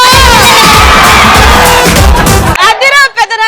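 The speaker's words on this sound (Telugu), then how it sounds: "నా పెదనాన్న పేరు మీద ఇన్ని అరుపులు వస్తున్నాయి చూడు." A studio audience at a television comedy show cheers and shouts loudly as one continuous roar, which then breaks off into a few scattered whoops.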